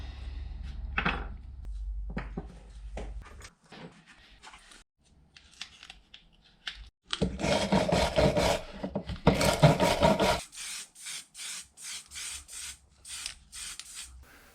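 Rust is scraped and wire-brushed off Mercedes SL fuel injectors in close, loud rasping strokes, first in short bursts and then in a longer spell of rapid back-and-forth scrubbing.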